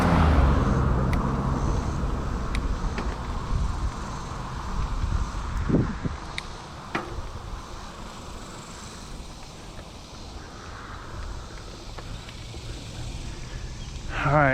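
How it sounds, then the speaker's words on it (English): On a rural road near Gainesville, Texas, a car approaches and passes a cyclist. Its rush swells and fades about midway, under constant wind buffeting on the microphone and a few faint clicks. "here comes a car"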